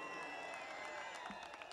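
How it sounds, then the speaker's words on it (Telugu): An audience at the Dhruva film pre-release event claps for several seconds, a faint, distant wash of applause with scattered louder claps and a noisy hall atmosphere. "చప్పట్లు కొట్టండి"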